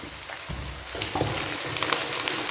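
Aloo keema, potatoes with minced meat, sizzles as it is sautéed in a pan. The crackling and spitting is continuous and close, with occasional stirring noises and no talking.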